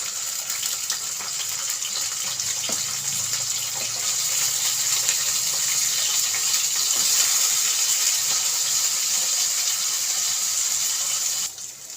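Aubergine pieces fry in a pan with ginger-garlic paste for a chicken curry, making a continuous, loud, even sizzling hiss from start to finish with no voices.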